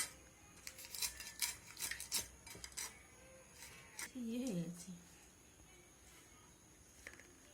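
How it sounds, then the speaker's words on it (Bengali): A knife works through hilsa fish, producing quick, quiet metallic taps and scrapes in clusters, with a brief faint voice partway through and softer clicks near the end. "এখানে একটা মাছ সুন্দরভাবে কাটা হয়ে গেছে আর একটা মাছ কেটে নেওয়া হচ্ছে"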